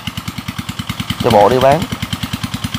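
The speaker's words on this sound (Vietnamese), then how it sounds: "Cái tiếng máy nó bị ồn quá." A noisy motorbike engine idles close by with a steady, rapid chugging pulse, while a voice speaks briefly over it.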